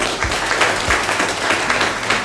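An audience at a Polish county school knowledge-contest ceremony about Blessed John Paul II applauds, a dense, moderately loud patter of many hands clapping steadily without pause.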